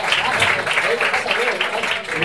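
A Spanish radio comedy show's studio audience claps for a newly introduced guest. The applause is short and steady, with dense clapping that lasts only a couple of seconds.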